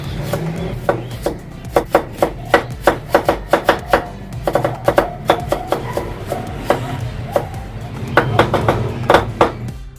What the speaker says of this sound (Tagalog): Magahit na tayo ng sibuyas, luya at bawang.